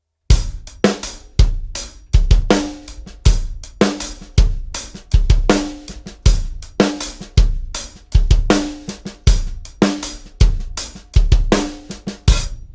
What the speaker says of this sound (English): I'm gonna first play this groove with 8 notes on the hi-hat just for you to understand it.